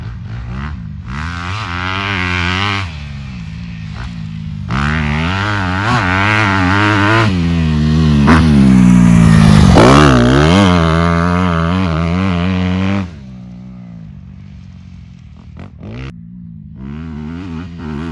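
A 2020 Honda CRF250R dirt bike is ridden hard, its engine revving up and down through gears in loud, rising and falling whines with brief drops between bursts.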